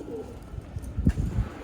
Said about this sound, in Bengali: এটা একটা নর কবুতর, খড়িগলা, ছোট ঠোঁট, গোল মাথা।